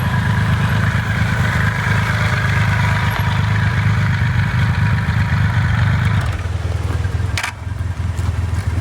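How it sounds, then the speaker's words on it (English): A Suzuki TL1000S V-twin motorcycle engine idles steadily at close range, a loud continuous low rumble that dips slightly near the end. "That's a big bike for you, Lana."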